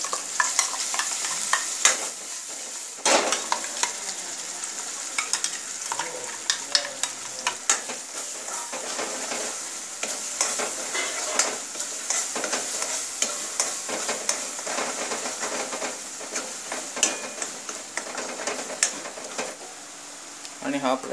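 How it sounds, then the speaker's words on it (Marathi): Ground masala sizzles as it fries in a pan of tempering for a Konkan fresh-cashew curry with chopped potato, with repeated scraping stirs over a constant hiss and a voice talking at times. "त्याच्यामध्ये आपला आता मसाला, वाटलेला मसाला टाकूया।"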